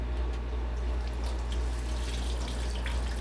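Hot tap water runs steadily into a sink while beauty blenders are cleaned with Dial soap, a continuous even rush with no pauses or talk.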